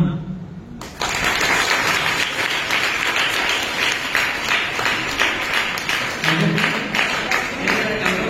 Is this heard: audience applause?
yes